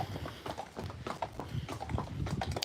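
Horses' hooves clip-clop at a steady walking pace up a tree-lined lane, close and fairly clear, with faint background noise.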